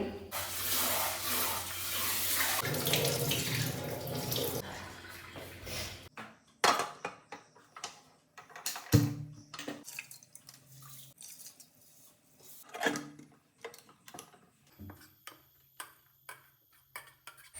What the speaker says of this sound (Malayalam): നമുക്കിത് കഴുകിയിട്ട് അടുപ്പത്ത് വയ്ക്കാം